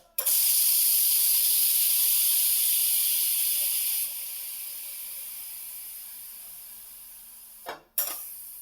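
Steam hissing loudly and steadily from a pressure cooker after its whistle weight is lifted, during cooking of stuffed eggplant and potatoes, holding strong then dropping to a softer hiss before a brief clatter near the end.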